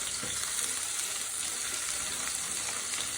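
Chicken pieces with green and dried chillies sizzle in a hot pan: a steady, close, unbroken frying hiss with faint stirring and no talking.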